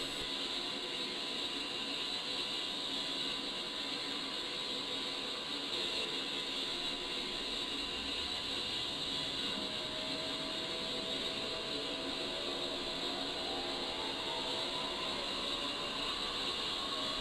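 An A-10C attack aircraft's jet engine spools up during a ground start in a flight simulator game, a steady mechanical hum and hiss with a whine that rises gradually in pitch, with no voices.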